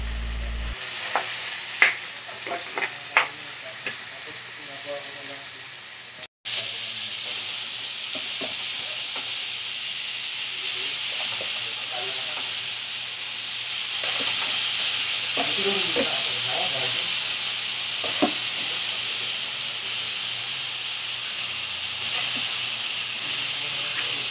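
Bitter gourd (ampalaya) sautéing in a pan with egg, a steady hiss of frying under occasional stirring clinks and scrapes, close and continuous, with a brief dropout early on.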